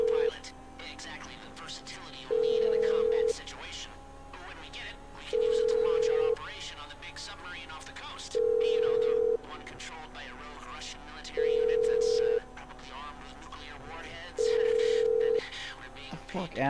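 A phone rings unanswered in Grand Theft Auto Online, a steady ringback tone repeating in one-second bursts at regular intervals, five rings in all, beneath ongoing game sounds and background voices.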